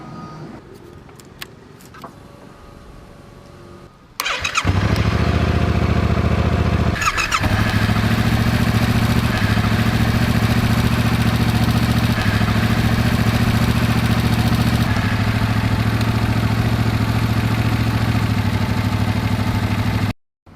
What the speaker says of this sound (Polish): musimy włączyć silnik i przełączyć na przełączniku światła drogowe